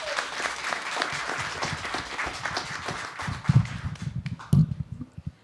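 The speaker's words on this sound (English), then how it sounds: "Can we give another round of applause, please?" Audience at a Black History panel event applauding, a dense wash of clapping that thins out into scattered individual claps and louder close hand claps before fading toward quiet.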